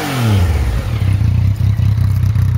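A Yamaha XSR 900 motorcycle with an Akrapovič exhaust starts up, then revs loudly and close, the deep throbbing exhaust rising and settling into a fast, pulsing idle, with no talk.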